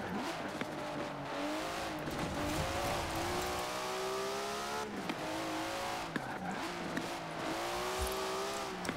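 Nissan Skyline GTR racing in Forza Horizon 4, its engine droning and revving continuously with gear shifts and brief tire squeals, loud and close with no talk.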